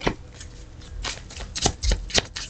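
A deck of tarot cards being shuffled by hand, a steady run of close, papery riffling and soft flicks with a few sharper snaps, heard alone without talk.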